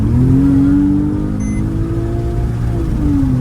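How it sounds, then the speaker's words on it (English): Porsche 911 flat-six engine revving loudly as it drops a gear and accelerates with the windows down, a steady rising engine tone with strong harmonics sustained throughout, close and continuous. "Listen to that flat 6."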